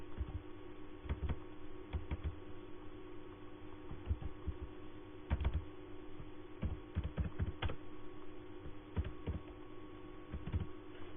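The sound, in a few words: typing a name on a computer keyboard in MS Word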